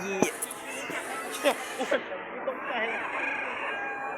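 A rooster crows loudly nearby in a few drawn-out, wavering calls, with people chattering and talking over it.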